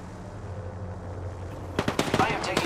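Video game gunfire: after a low rumbling stretch, a sudden burst of rapid automatic shots breaks out, loud and close, continuing in quick succession to the end.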